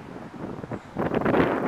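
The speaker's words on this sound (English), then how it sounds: "It's kind of windy." Wind gusts buffet a microphone outdoors, starting as soft intermittent rumbles and then swelling into a louder, sustained blustery roar for the final stretch, with no talking.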